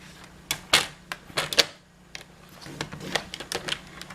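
A tool is drawn along the groove of a scoring board to crease cardstock for an arrow fun fold card. It makes a series of short, dry scraping strokes, some sharper than others, close up and fairly quiet, with no voices.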